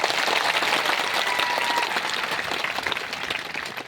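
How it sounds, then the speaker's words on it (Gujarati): A large audience at a tribal mass rally bursts into loud, dense applause that fills the space and holds steady for several seconds before easing slightly toward the end. "એકવાર આપણે જોરદાર તાળીઓ પાડીએ"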